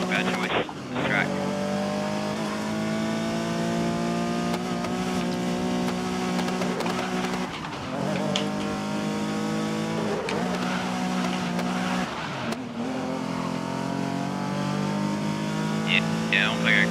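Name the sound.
Ferrari race car engine in the video game Grid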